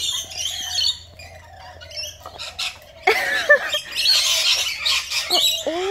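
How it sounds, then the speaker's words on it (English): A flock of lorikeets squawking and chirping outdoors near guinea fowl, sharp shrill calls overlapping in bursts, sparse at first then a dense, loud chatter close by. "all of these crazy little lorikeets."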